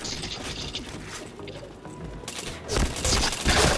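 Rapid bursts of video game gunfire crackle across a dense, busy mix, with heavier volleys near the end of a shooter match where headshots are being chained.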